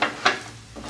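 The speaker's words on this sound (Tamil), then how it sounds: "அது வரைக்கும் நம்ம கிண்டிகிட்டே இருக்கோம்" A spoon scraping through thick roasted gram halwa in a pan, two short close scrapes of utensil against metal, then a quieter rub.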